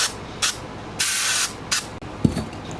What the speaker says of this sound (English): we'll put a little bit of this spray at the bottom